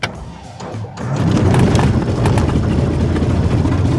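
A Beechcraft Bonanza piston engine, just started, holds a steady, loud, low droning rumble after a quieter first second, running on alone with no talk.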